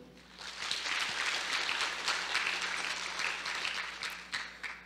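An audience at a security conference's closing ceremony claps together, a dense sustained patter of many hands that swells quickly, holds steady for several seconds, then begins to thin, with no speech over it.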